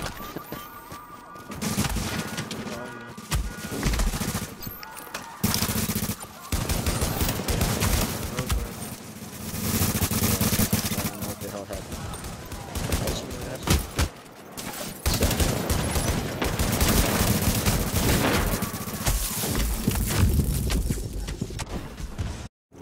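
Dense gunfire in the video game The Division, sustained automatic bursts and rapid shots filling the scene with brief gaps, loud and close throughout.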